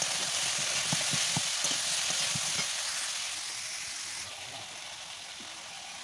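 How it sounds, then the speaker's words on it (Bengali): Pointed gourd (potol) and a potato frying in a pan, with a steady broadband sizzle and a few soft stirring knocks early on, easing to a quieter hiss toward the end. "আর মাত্র একটা আলু দিয়ে এই পটলগুলো আমি এখন ভাজা ভাজা বা কষিয়ে নেব"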